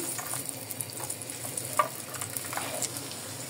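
Whole garlic cloves, dried chilies and bay leaves frying in oil over a medium gas flame for eggplant pickle, a close, steady sizzle with small pops and stirring scrapes, no voices.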